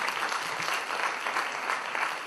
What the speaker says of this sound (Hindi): यदि यकीन मानते हैं तो प्लीज ताली बजा दीजिए।